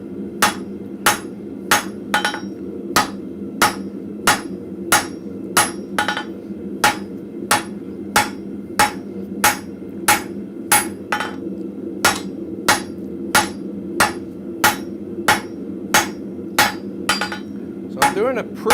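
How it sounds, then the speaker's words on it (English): A blacksmith hammers a square taper into the working end of a forged metal bar, a steady series of about two dozen sharp, ringing hammer blows at an even rhythm over a low background hum, with no talking. "I'm going to bring this down, doing a square taper."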